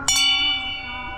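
A metal temple bell at a Shiva temple in Nepal is struck once, a bright clang that rings on with a sustained, slowly fading metallic tone.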